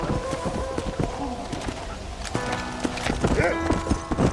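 Horse hooves clip-clop steadily in Red Dead Redemption, a quick rhythmic trot close by, with a voice talking over the hoofbeats partway through.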